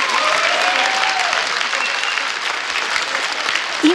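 A studio audience at a Bulgarian comedy improvisation show applauds performers, a loud, dense, steady wash of clapping from many hands throughout, swelling briefly at the very end.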